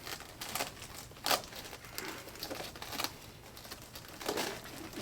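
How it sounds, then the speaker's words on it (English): A zipper being worked up along the fabric of a paramotor reserve parachute container, with scratchy rasping bursts and crinkly handling noises, close up and fairly quiet, no talking. "working our zipper all the way up"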